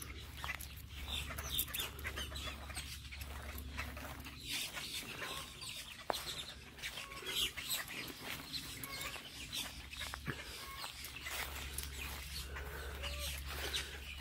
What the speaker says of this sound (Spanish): Aquí hay gallinas.